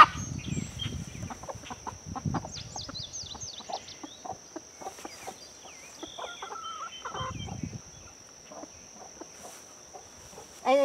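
Backyard chickens around a chicken coop cluck in scattered soft bursts, with a constant high insect-like whine running underneath and a few faint thumps.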